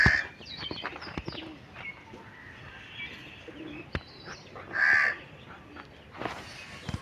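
Crows caw from close by near cows: a few harsh calls stand out over a soft outdoor background, with scattered ticks and rustling between them.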